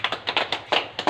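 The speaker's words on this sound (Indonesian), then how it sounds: "tepuk tangan untuk Arif sama Eni" Scattered hand claps from a small classroom group of students, a handful of sharp, uneven bursts over about a second, close and fairly clear with no talking.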